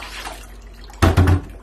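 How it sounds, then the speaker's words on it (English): Leftover water displaced from an old device drains out in a brief gurgling, splashing burst after a second of quiet background, loud and close. "this is the water that's left in here, and it's going to displace now as well."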